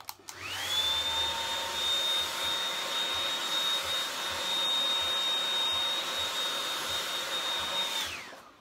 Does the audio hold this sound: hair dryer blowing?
yes